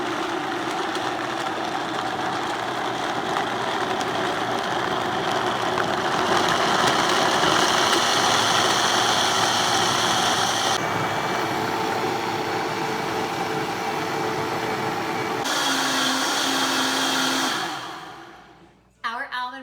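A blender whirs at full speed, grinding soaked almonds and water into homemade almond milk, a loud, steady motor roar whose pitch shifts a few times before it cuts off abruptly near the end.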